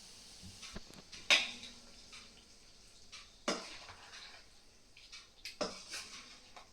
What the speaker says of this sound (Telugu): వేడిగా ఉంది కదా, మనం ఒక గరిటెతో తీసుకుని గరిటెతో కలుపుకుందాం.